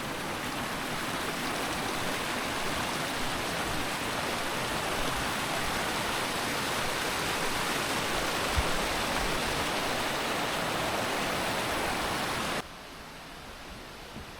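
A mountain river at Gunung Puntang near Bandung, its water rushing in a dense, constant roar that stays loud and steady before dropping abruptly to a softer wash near the end.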